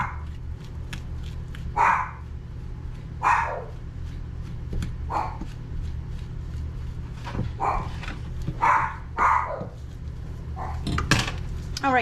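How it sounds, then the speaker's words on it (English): Dogs bark in scattered bursts while a neighbor shoots off fireworks nearby, the barks fairly close and repeated every second or two over a low steady hum, with occasional clinks of dishes in a kitchen. "So the dogs are going crazy."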